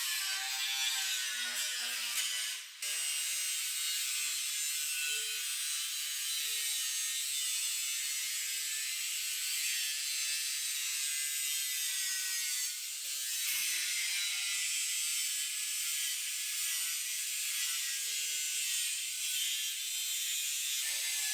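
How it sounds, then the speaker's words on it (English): Grinder disc cutting into a high-strength steel frame rail on a 1965 Mustang restomod, a continuous loud, harsh bright grinding screech held at steady intensity, briefly dipping once early on, with no talk. "now we can start grinding our frame rail. We're going to cut it down."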